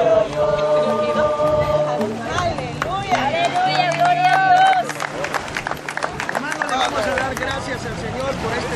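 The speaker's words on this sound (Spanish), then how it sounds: "Le damos un aplauso al Señor" Congregation at a beach baptism ceremony breaks into sustained applause, clapping mingling with cheers, voices and crowd babble, loud and close throughout.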